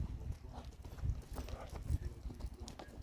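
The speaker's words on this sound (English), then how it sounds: "Nice canter there." A mare named Avalon cantering, her hooves drumming a steady three-beat rhythm of dull thuds on soft footing, close and continuous with light ambient noise.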